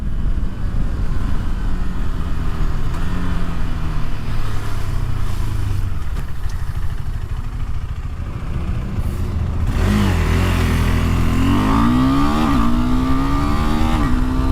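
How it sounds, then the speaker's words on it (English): A KTM 390 Adventure, a sub-400cc motorcycle on Continental TKC 70 tires with an optional quick shifter, pulls hard with loud engine drone and wind. Its pitch sweeps upward through successive gears in the last few seconds. "Engine definitely has some pep in its step."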